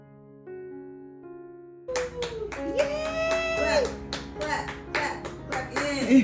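A baby boy at home on his first Easter claps his hands: a run of soft, uneven claps in a lively indoor room after a brief tonal toy sound, while an adult voice talks over them.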